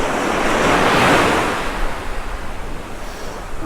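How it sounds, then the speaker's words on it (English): Surf breaks on the sea shore at Tunstall on England's east coast: a loud rushing wash that swells and then recedes, with wind buffeting the microphone and no voices. "I think the wind is dropping off a little bit though"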